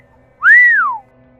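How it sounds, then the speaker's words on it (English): A man whistles a single rising-then-falling note, clear and fairly loud against a quiet background, in an eerie horror-story setting inside a gym restroom. "And then some whistling in the voice of a man."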